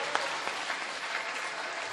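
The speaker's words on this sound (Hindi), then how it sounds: "एक बार जोरदार तालियों से इस्तकबाल करें।" Steady applause from the audience at a mushaira poetry gathering, a dense, sustained rustle of many clapping hands at moderate level, heard alone without speech.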